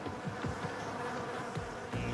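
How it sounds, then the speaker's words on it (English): Honeybees borrowed from an apiary buzz on a rooftop, a steady soft drone with individual insects passing close now and then, faint and alone. "With the bees on loan from the apiary, Jamie carefully selects a contender"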